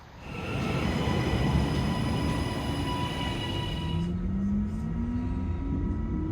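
A train near Manchester rumbles along at speed, loud and steady, with a rising whine as it runs, and no voices.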